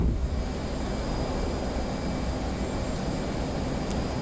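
A jet at full power taking off from an aircraft carrier at night in the DCS flight simulator, heard as a steady, loud, continuous engine roar with broadband rumble throughout and no talk.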